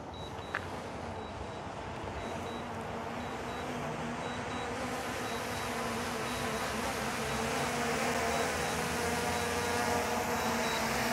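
A DJI Mini 4 Pro drone flies back overhead on return to home, its steady insect-like propeller buzz fairly faint and distant, growing slightly stronger over the stretch with no talking.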